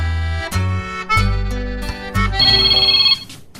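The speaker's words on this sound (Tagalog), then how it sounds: "itay pa'y nga agriring ta cellphone mo." A cellphone ringtone plays loud and close, a melodic electronic tune repeating in short phrases for several seconds with no talk over it.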